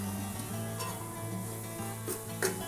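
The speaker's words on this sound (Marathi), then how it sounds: "आता हे मस्त आपल्याला फ्राय करून घ्यायचे" Chopped capsicum fries in a pan for pav bhaji, giving a steady close sizzle with a few soft stirring scrapes throughout.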